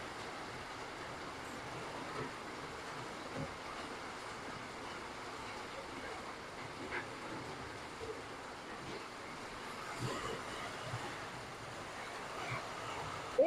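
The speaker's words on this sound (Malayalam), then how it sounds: "സൂപ്പർ മഴ പെയ്യുന്നുണ്ട്." Heavy rain falls steadily outdoors while strong wind gusts, making a dense, even wash of noise that continues throughout with small bumps and rattles and no clear voices.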